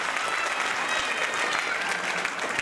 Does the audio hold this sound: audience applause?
yes